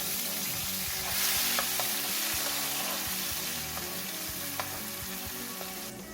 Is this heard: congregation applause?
no